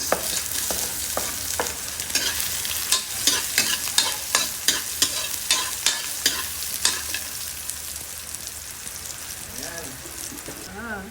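Garlic and onion sautéing in a pan, a steady sizzle broken by a regular run of sharp stirring scrapes from the spatula, close and fairly loud, with only a little background voice.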